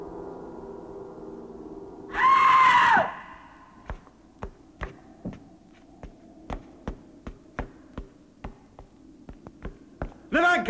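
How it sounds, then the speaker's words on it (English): A short, loud scream bursts out in a 1963 Gothic horror film, then a run of evenly spaced knocks or footsteps follows, ending in another loud burst. "I heard screaming."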